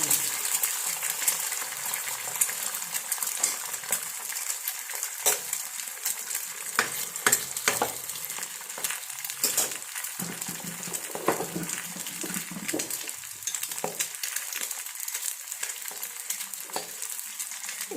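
Food frying in a pan in a home kitchen, a steady close crackling sizzle with scattered sharp pops and stirring clinks running throughout, no voices.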